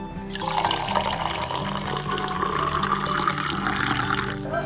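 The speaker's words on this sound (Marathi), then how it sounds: "त्याच्यामध्ये थोडंसं मी पाणी ओतणार आहे म्हणजे आपला सरबत तयार झाला" Water is poured into cashew apple syrup for a homemade drink, a continuous close splashing, bubbling stream with rising tone as the vessel fills, steady throughout.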